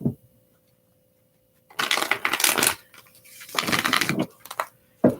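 A deck of tarot cards is shuffled close by in two dense, rustling bursts of about a second each, separated by a short pause, with near-silence before them and no talking.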